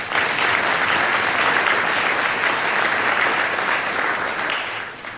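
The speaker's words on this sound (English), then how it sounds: "Let's applaud their efforts." Sustained applause from the audience at an annual meeting's awards ceremony, a dense, steady wash of many hands clapping that holds evenly and tapers slightly at the end.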